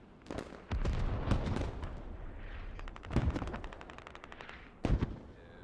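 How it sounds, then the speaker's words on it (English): Mortar fire pounds an area during an urban battle in a video game set in Fallujah, with Russian airborne troops under attack: heavy booming impacts and bursts of rapid gunfire, loud and close, with a final pair of blasts near the end. "Mortar is just pounding green zone."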